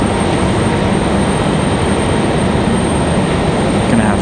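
A Sun Country airliner departs from Raleigh-Durham airport, its jet engines making a loud, continuous broadband roar that stays steady for the whole stretch with no voices.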